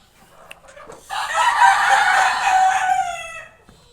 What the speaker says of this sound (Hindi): इसमें होते हैं हमारे मुर्गे बंद।